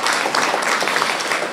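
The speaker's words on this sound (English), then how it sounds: "Could we give Madam Chair another round of applause?" Applause from the audience at a regional health authority's public board meeting, a brief, even round of clapping in a hall, fairly loud and without speech over it.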